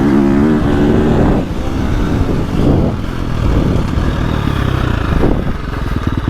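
A KTM 350 dirt bike engine, heard up close and loud, revving and surging as the rider works the throttle, with rapid rise-and-fall pitch changes and mechanical clatter.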